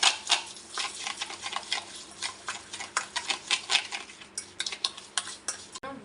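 Two eggs whisked briskly in a bowl for a simple homemade cake batter, a quick run of light clinking utensil taps against the bowl, close and steady with no talking.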